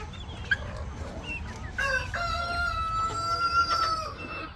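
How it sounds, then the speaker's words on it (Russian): Silkie chickens kept at a home coop cluck softly and one crows in a long, drawn-out call, heard close over a low background noise, without talk. "это шелковые китайские куры"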